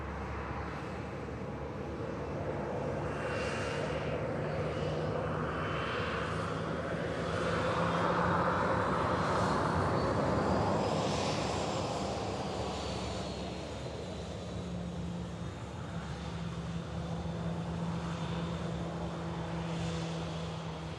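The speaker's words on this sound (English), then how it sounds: "Virgin Atlantic A330 as well on the taxi out." A Virgin Atlantic Airbus A330 taxiing at Manchester Airport produces a continuous jet engine whine and rumble that swells in the middle and then eases off, heard at a moderate distance.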